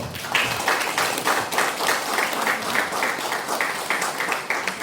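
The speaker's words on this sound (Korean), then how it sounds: "지금 인수위원님들한테 박수 한번 크게 한번 주십시오" A crowd claps steadily, a sustained round of applause with rhythmic bursts, moderately loud throughout.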